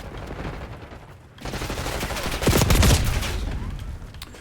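A burst of rapid video game gunfire rises partway through and keeps rattling loud and close in quick volleys. A player's voice is faintly mixed in.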